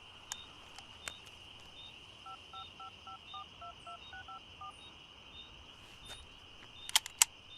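Telephone keypad dialing tones, a quick run of about a dozen short beeps at a steady pace over a faint constant tone, with a few clicks around it.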